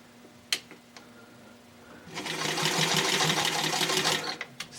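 A sewing machine stitching a fabric suspender extension, starting after a few clicks and running as a steady, close, fast mechanical whir for a couple of seconds before stopping.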